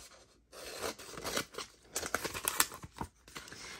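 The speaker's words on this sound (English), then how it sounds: "I like to take my scissors and cut off all the excess" Scissors snip repeatedly through paper close up, a series of crisp cutting strokes with brief pauses between.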